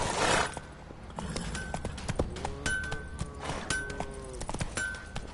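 Horse hooves clip-clop at a steady trot in The Witcher 3, a regular rhythm of close hoof strikes with a brief shout at the start and some faint game sounds behind.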